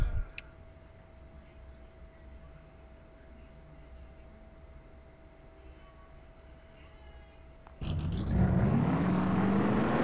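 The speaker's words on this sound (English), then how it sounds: "Drivers, start your engines!" Several NASCAR race trucks fire their engines at a Coca-Cola 200 truck series race, a quiet stretch suddenly giving way to a loud, rising roar of revving engines near the end.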